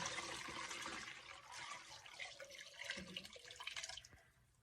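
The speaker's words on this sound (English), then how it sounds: "my little strainer fit in there, so I'm going to just pour that through." Homemade ginger juice trickles through a small handled strainer into a KitchenAid mixer bowl, a faint, close, continuous splashing and dripping that runs steadily for several seconds before tapering off.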